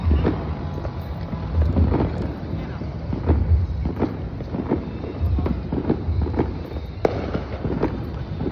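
New Year fireworks and firecrackers exploding, a rapid irregular barrage of sharp bangs and crackles, close and loud, with wind buffeting the microphone.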